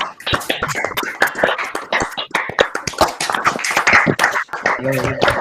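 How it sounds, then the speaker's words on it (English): Members of an online audience clap over their open microphones, a jumble of sharp uneven claps from many sources, with a voice briefly heard near the end. "I want all of you to switch on your mic and give Himani a real applause that she can hear."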